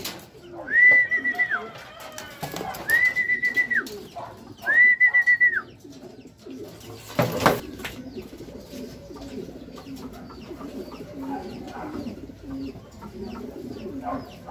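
Racing pigeon returning to its loft after a training race, with soft repeated cooing and a few wing flutters close by, while someone speaks quietly in between.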